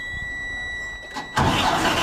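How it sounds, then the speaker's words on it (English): A starter whirs briefly, then a high-mileage truck engine catches and roars to life loudly, running rough right after starting with a miss like a bad cylinder. "Sounded like it had a miss or something, or like a bad cylinder when I was cranking on it"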